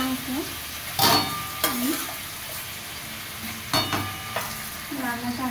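Chicken pieces being sautéed in a pan: a moderate sizzle with a few sharp scraping strokes of the spatula, while a voice talks briefly underneath.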